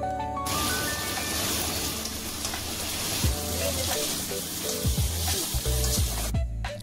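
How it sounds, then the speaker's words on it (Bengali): Shrimp sizzle and fry with spice paste in a pan, a steady close crackle throughout with a few soft clanks of stirring near the end. "চিংড়ি মাছ মশলার সাথে ভালোভাবে কষানো হয়ে গেল।"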